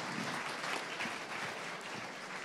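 Audience at a startup pitch event applauds, a dense and steady patter of many hands clapping at moderate distance for a couple of seconds.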